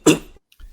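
A single sharp sneeze-like burst at close range, loud and breathy, fading quickly, followed by a faint rustle.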